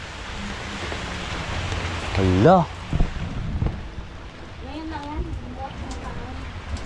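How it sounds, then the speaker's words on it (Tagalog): Heavy rain with thunder falls as a steady broadband wash throughout, with a brief louder burst near the middle, while people talk over it intermittently. "Yan, lumakas ang ulan."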